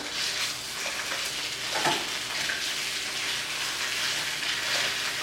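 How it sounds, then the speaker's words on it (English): Thick pork chops sizzle and crackle loudly in a hot frying pan as they are flipped, giving a dense, steady hiss close up with a brief scrape partway through and no talking. "check on my pork chops. I'll flip them over."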